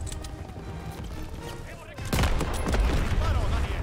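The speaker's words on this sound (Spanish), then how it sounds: "Gracias por el fuego de apoyo, Daniels." Gunfire from a World War II shooter game, Call of Duty WWII, with a sudden loud burst of rapid shots and booms about halfway through after quieter background battle noise; voices are faintly present.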